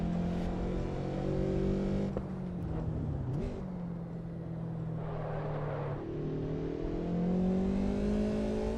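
A BMW E30 in the racing game Assetto Corsa Evo drives with a steady engine drone that dips briefly as the car shifts or lifts, then holds on through a sustained run with no voice over it.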